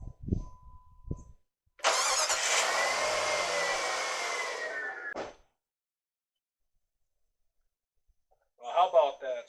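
A 1999–2004 Jeep Grand Cherokee with a newly replaced starter cranks briefly and then catches, settling into a steady, close idle for a few seconds before cutting off. Someone speaks at the very start and end.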